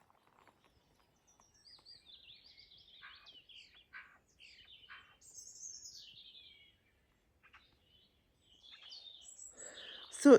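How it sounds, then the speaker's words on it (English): Small birds sing and chirp in a sunny container garden, bursts of high tweets scattered across the clip with short quiet gaps, moderately near and fairly soft, ending with a sharp close knock. "Patsy's sitting in the sun, listening to the birds and watching the bees."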